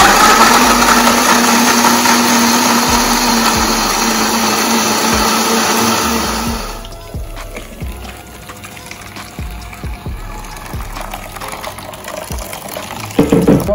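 Electric kitchen blender running loud and steady for about seven seconds while blending coconut for a Jamaican salt mackerel rundown, then cutting off to quieter handling sounds and small knocks.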